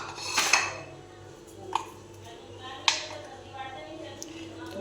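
Potatoes and other ingredients for chana chaat being mixed in a bowl, heard as a few sharp spoon clinks and scrapes against the bowl over a low steady background.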